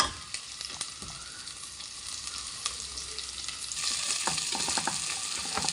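Onion and ginger sautéing in hot oil for a coconut-milk vegetable stew with shrimp, a steady close sizzle with scattered stirring scrapes and a brief louder burst of frying later on, no voices.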